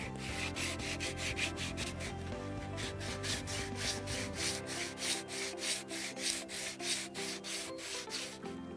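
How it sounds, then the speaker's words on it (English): Sandpaper rubs back and forth over a planed wooden stool part in a rhythmic run of close, scratchy strokes, loud and steady with no voices. "you use a sandpaper to make it more smooth"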